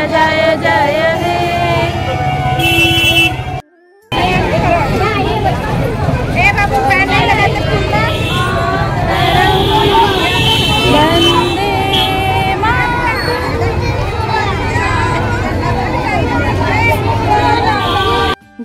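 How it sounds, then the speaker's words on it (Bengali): Outdoors on Independence Day, traffic noise mixes with children shouting and crowd babble, a loud and dense jumble that runs almost without pause apart from one brief drop near the start. "গাড়ির আওয়াজে বাচ্চাদের চিৎকার চেঁচেমেচিতে গান কিছুই শোনা যাচ্ছে না।"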